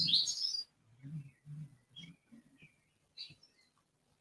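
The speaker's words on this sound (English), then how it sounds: "Them birds sound beautiful." Bird chirps ring out in a bright burst at the start, then a few brief tweets later, over low murmuring voices nearby.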